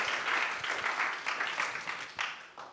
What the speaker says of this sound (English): just a round of applause for Raj for joining us today.